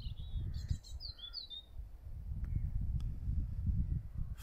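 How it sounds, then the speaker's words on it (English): Birds sing on an evening at Newgrange, several bright chirps and short whistled phrases early on, then fainter calls over a low rumble of wind or distant noise. "enjoying the beautiful evening and the bird song"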